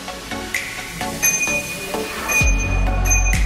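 A child's bicycle bell rings in a few quick, bright pings among other bikes, followed by low rumbling handling noise.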